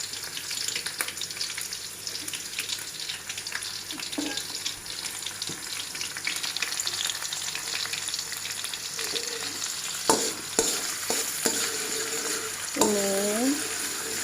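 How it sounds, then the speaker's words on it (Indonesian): Garlic and shallots frying in oil in a pan for pindang serani, a continuous close sizzle with occasional stirring scrapes and a few light clatters of utensils toward the end. "ambil bawang putih dulu, bawang merah juga. Aku oseng ya, kayak menumis biasa aja pakainya."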